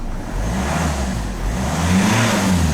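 A Ford car engine revs after a no-start repair, a loud close-up idle that swells into a couple of throttle blips, running steadily with no one talking.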